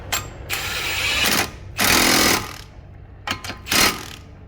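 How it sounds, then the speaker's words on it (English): Impact gun hammering a 32 mm CV axle nut on a 2003 Subaru Forester, loud close bursts of rattling impacts in three main runs with short blips between, no talk. "I'm gonna go ahead and hit it with an impact gun."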